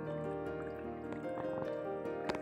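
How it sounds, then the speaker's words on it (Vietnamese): Water trickling and dripping as it is collected from a stream in a forest during a wild bee-nest hunting trip, a steady close liquid sound with small splashes and no talk. "Đang lấy nước ở cái suối này."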